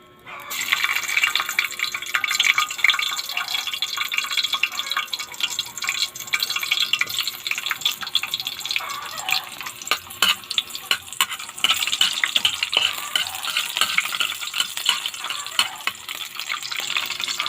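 Ingredients sautéing in a pan for a Bicolano home-style dish: a steady, close sizzle and crackle with occasional stirring clatter and faint drips, running unbroken throughout without any voices.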